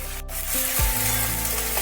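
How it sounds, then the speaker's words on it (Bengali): Steady crackling sizzle of cut okra frying in hot oil with a little salt, continuous and close, with a brief scraping rub partway through. "তেল গরম হয়ে গেছে, আমি দিয়ে দিচ্ছি কেটে রাখা ঢ্যাঁড়স।"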